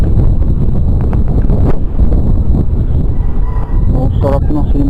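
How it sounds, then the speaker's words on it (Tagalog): A breeze blows outdoors, with steady rumbling wind buffeting the microphone throughout and people talking beneath it. "Ang sarap ng simoy ng hangin"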